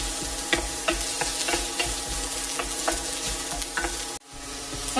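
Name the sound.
onions sautéing in hot coconut oil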